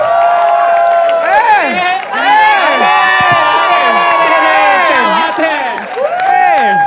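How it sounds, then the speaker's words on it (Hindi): At a live comedy talent show, the audience bursts into loud cheering and applause for the final act, with excited shouts, whoops and screams over steady clapping that stays close and intense throughout. "Make some noise for the final act."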